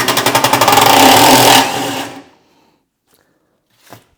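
A DeWalt DCF890 impact wrench hammers a bolt loose on a Briggs and Stratton lawn mower, a loud close burst of rapid rattling impacts that spins down and stops, leaving silence and one small knock.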